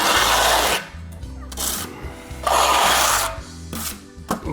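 Trowel spreading mortar on the back of a large format tile, close raspy scraping strokes in several separate sweeps with short pauses between them.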